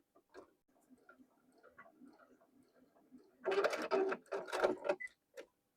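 A sewing machine stitches the seams of a small fabric mini tote key chain in short bursts, quiet ticking at first and then louder rapid whirring runs near the end, close by.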